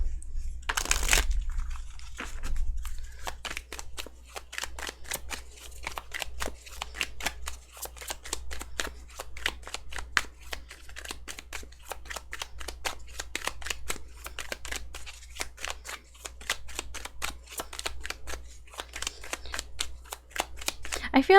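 Tarot cards are shuffled and handled in a steady run of dense, crisp riffling clicks that continue throughout, with one louder burst near the start and a quiet background hum underneath.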